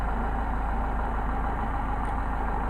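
A VeloSolex moped's small engine runs steadily with a continuous low drone and a constant mid-range whine, held at an even level without clear rises in pitch, close and loud throughout.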